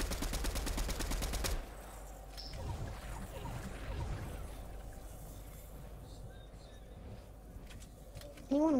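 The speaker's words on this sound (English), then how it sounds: "Use your gun, Jordan." Video game gunfire in a tournament match, a rapid automatic burst for the first second and a half, then softer scattered shots and game noise, with a sharp loud burst at the very end.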